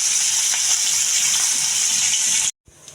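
A rohu fish head frying in hot oil gives a steady, loud hiss and sizzle that cuts off abruptly near the end, leaving a faint quieter sputter.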